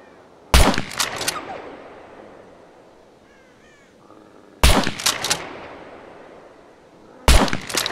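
A player's gun fires three single, sharp shots in the survival game Scum, each a loud crack with a trailing echo, spaced several seconds apart against a quiet background.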